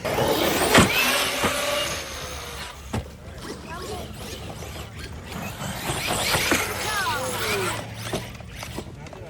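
A stock Traxxas X-Maxx RC monster truck with aluminum sled upgrades driving outdoors, its electric motor whining and rising in pitch across several bursts against wind noise, while people talk nearby.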